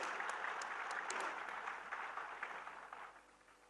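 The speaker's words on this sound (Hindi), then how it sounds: "एक बार जोरदार ताली बजाकर उनका स्वागत करिए।" Audience applause at a state-level youth festival award ceremony in Jaipur, a steady wash of many hands clapping that gradually fades over a few seconds.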